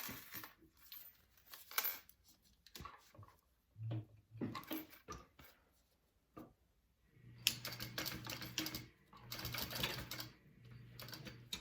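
A sewing machine top-stitches a bag in bursts of rapid mechanical clatter, separated by pauses and handling noise, and the final long run is the steadiest and loudest.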